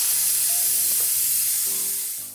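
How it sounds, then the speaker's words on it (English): Steady, loud hiss of steam venting from a pressure cooker, continuous and even before trailing off at the end, with no voices. "When you hear a steady flow of steam like this"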